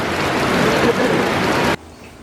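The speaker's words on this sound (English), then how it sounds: "We're really experiencing the rain now." Heavy rain falls outdoors as a dense, steady hiss for nearly two seconds, then cuts off abruptly into near quiet.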